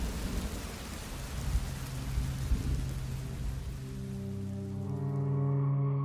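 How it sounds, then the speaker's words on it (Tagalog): Heavy rain pours steadily in a dense, even hiss, with low rumbling beneath it, continuous and fairly loud throughout, with no voices. "Sa gitna ng malakas na buhos ng ulan"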